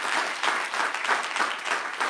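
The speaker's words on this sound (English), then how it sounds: "let's give a round of applause for the people that served in the military" Audience at a school board meeting applauding military veterans, a brief burst of many hands clapping, close and fairly loud, without talk over it.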